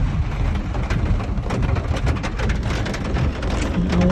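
Heavy rain pounds down in a dense, steady roar, loud and close throughout with no let-up.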